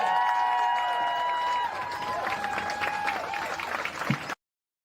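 Crowd at an election night party in Seattle bursts into applause and clapping, with a few whoops and tonal calls over the dense patter, which eases slightly before cutting off abruptly.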